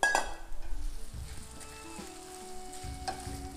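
Chopped onions sizzle with browned hamburger in a frying pan, a soft steady crackle with clinks and scrapes of a utensil stirring the mix, close and fairly quiet.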